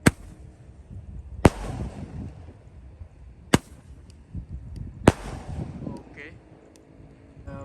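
An 0.85-shot Roman candle fires from inside a bottle outdoors, giving four sharp, loud bangs spaced unevenly about one and a half to two seconds apart over gusty wind noise.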